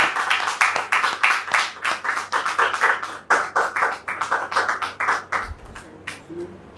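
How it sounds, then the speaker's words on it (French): A studio audience on a television talk show claps to welcome a guest, a near, steady burst of hand clapping lasting several seconds before tapering off. "On peut recevoir M. Topé Clément sous vos applaudissements."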